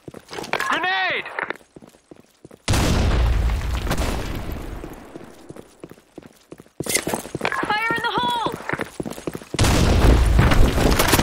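Heavy booming grenade blasts in an office-map shooter game go off in bursts, with loud rumbling aftermath and game voice lines shouting between them.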